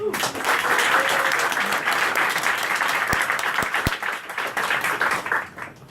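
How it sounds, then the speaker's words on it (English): A conference crowd breaks into sustained applause welcoming Vitalik Buterin, thick and even clapping filling the room, with a few sharp taps midway before it thins toward the end. "Let's welcome Vitalik with a round of applause."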